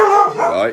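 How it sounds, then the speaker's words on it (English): A dog yips and howls in a short, whining burst at a door, the sound rising and falling close by while a person speaks over it. "Sorry about my dog."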